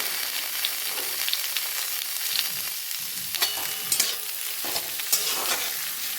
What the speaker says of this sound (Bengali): গাজর হালকা ভাজা হয়ে গিয়েছে, আমি এর মধ্যে ছেড়ে দিচ্ছি বাকি সমস্ত সবজিগুলো।